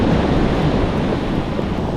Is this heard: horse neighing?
no